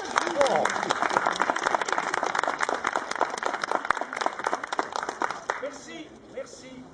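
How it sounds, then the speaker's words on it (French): Audience applause for a guest at a Night of Darkness event in Mouscron: dense, crisp clapping from a hall of people, loud and sustained for about five seconds before thinning out and fading. "Je vais vous demander, cette fois, d'applaudir à tout rompre"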